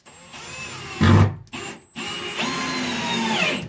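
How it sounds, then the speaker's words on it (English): A power drill drives screws into wooden blocking for a shed loft floor, with several close, loud whirring bursts separated by short pauses. "And I'm going to put 3 screws in this one."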